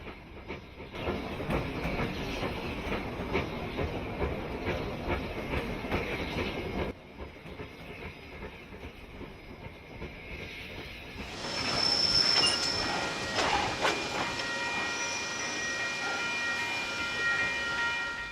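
Steam-era train crossing a river bridge in New Zealand on old archive film: a steady rumbling roll of carriages with rhythmic clatter and a thin high squeal, fairly faint, with an abrupt shift in tone partway through.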